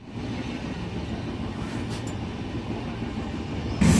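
Steady rumbling roar of the Tambaram-Jodhpur Express heard from inside a sleeper coach, a constant low rolling drone with faint rattles and a brief louder thump at the very end.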